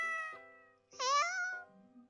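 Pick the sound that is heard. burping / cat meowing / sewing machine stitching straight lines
cat meowing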